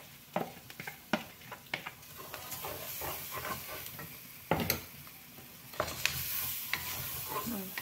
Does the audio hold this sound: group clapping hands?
no